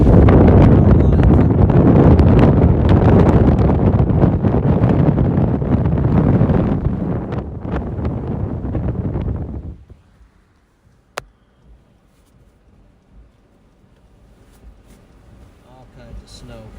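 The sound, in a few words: strong steady wind in a blizzard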